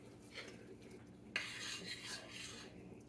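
Quiet scraping of a spoon stirring thick peanut butter into hot fudge mixture in a pan, soft rubbing strokes with one slightly louder scrape partway through.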